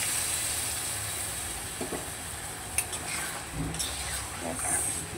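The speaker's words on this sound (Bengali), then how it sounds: "দিয়ে দিলাম অল্প করে জল।" A little water goes into a pan of frying pointed gourd, giving a steady close sizzle, with scraping stirs and a few clinks over the hissing.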